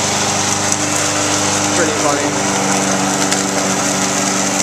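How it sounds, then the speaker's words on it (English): A lawn mower runs steadily and loudly through a residential yard, its engine drone constant throughout, with a brief spoken remark over it. "mowing the lawn"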